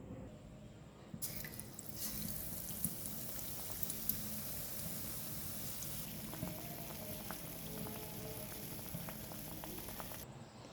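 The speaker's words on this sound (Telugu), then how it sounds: "వేసానండి ఆయిల్లో." Bread bajji, batter-dipped bread slices, frying in hot oil with a steady bubbling sizzle that swells after about a second and carries on through the clip with no talking.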